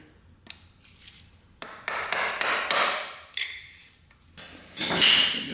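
A hammer strikes a screwdriver while working on a 450cc dirt bike: a series of sharp metallic taps and clanks at an irregular pace, close and fairly loud, with no talking.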